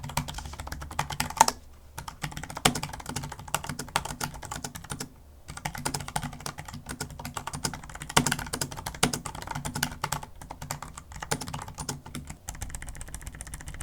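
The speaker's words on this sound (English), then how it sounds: "They make a nice sounding lower pitch click sound" Steady, fast typing on a Corsair K100 Air ultra-thin low-profile tactile mechanical keyboard with soft, low-pitched clicks, pausing briefly twice before continuing at an even pace.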